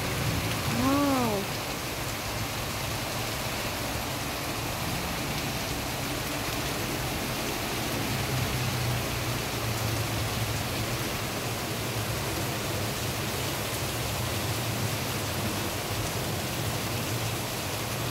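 Steady, even rain in Bangkok hisses throughout, a dense continuous wash of drops with a brief bird-like chirp near the start.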